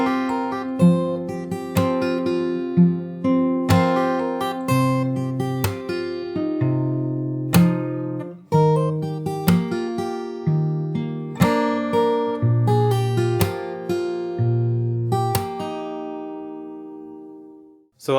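Close solo fingerstyle guitar runs through a bridge, steady plucked melody notes over bass notes with occasional sharp slapped accents, ending with a sudden stop.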